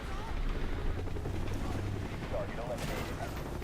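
A helicopter in the Call of Duty: Black Ops mission The Defector rumbles in a dense battle din with scattered gunfire and blasts, while a voice talks over it.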